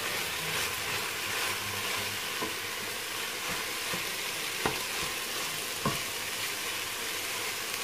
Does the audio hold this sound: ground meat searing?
yes